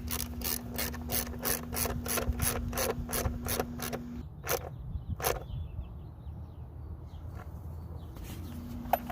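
A ratchet wrench tightens a bolt on a Toyota Prius hose, clicking in a fast, even run of close, loud strokes, then pausing after a few slower clicks.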